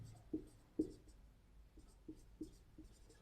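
A pen scratches out math notes on paper, making soft, faint strokes with several light taps spaced irregularly, quiet and close, with no talk.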